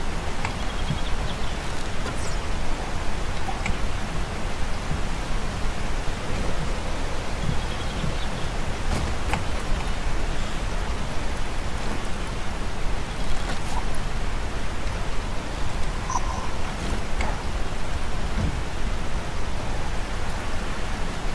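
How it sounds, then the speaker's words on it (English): Steady rain hisses in the video game 7 Days to Die, a dense, even wash of noise with occasional faint clicks, continuous at a moderate level without speech. "it's so freaking rainy out"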